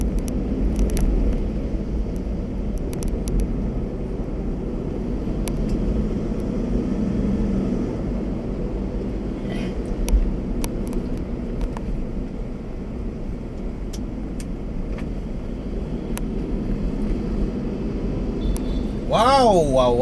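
Steady road traffic din heard from inside a car stuck in congestion near a bridge toward Brixton and Kalayaan, a continuous low engine and road rumble throughout, with a brief sharper burst near the end.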